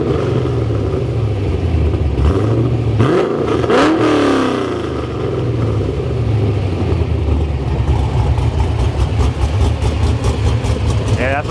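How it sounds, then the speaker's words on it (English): A nearby LS1 V8 engine with a large cam in a Mazda RX-7 revs up and down, its deep rumble rising and falling, with a voice speaking over it at times. "Yeah, that's a V8."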